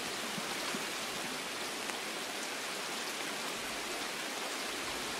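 Bugged rain ambience in the shooter game Escape from Tarkov plays as a steady, even hiss of heavy rain that sounds as if it were falling indoors, continuous and moderately quiet with no talk over it.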